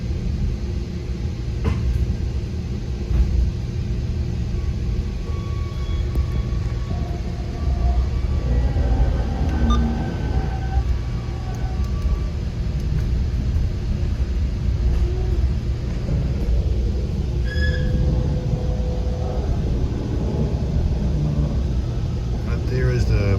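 VRE commuter train #336 runs from Broad Run Airport toward Washington DC, heard from inside a car as a constant low rumble and clatter, with faint squeals and tonal whines over the ride.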